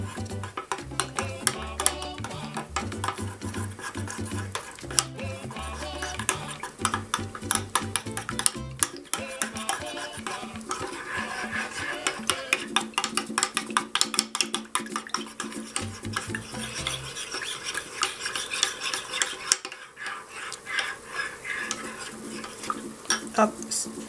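Cornstarch is being mixed into spiced Martinican chocolate, giving a long run of busy stirring, clattering and scraping against a pot or bowl. The clatter is fairly dense and continuous, and no one speaks.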